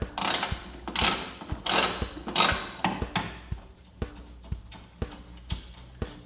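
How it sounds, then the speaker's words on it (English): Ratchet wrench working a stubborn nut loose on an arcade control panel, rapid clicking pawl bursts with strained pulls, then slower single clicks spaced about a second apart, close and clear with no talking. "Let's get that nut off."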